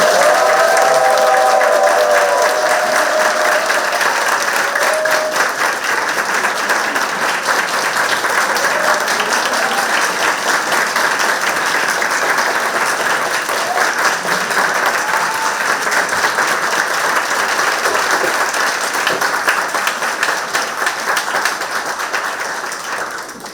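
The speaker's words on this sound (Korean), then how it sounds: "우리 김영석 교수님 올라오실 때 박수로 환영하도록 하겠습니다" A church congregation at a seminar gives sustained, even applause to welcome a guest professor, a steady dense patter of many hands lasting over twenty seconds before tapering off.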